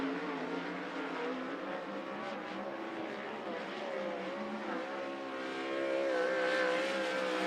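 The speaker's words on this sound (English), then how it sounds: "Dallas Melby is next in the 51M" A race car, the 51M, lapping Skagit Speedway dirt oval, its engine a steady droning whine that holds through the lap and swells louder near the end as it comes closer.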